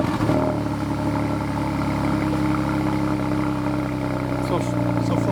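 A Porsche 911 997.2 Carrera with an aftermarket exhaust fires up from cold, then settles into a steady, loud, close idle with a deep, even drone that holds for several seconds.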